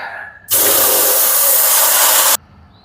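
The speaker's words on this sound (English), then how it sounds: "Let me fill the water pan." Water pours steadily into the water pan of a smoker, a loud broadband rush that starts abruptly, holds for about two seconds and then cuts off.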